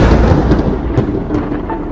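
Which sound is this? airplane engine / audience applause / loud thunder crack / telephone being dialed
loud thunder crack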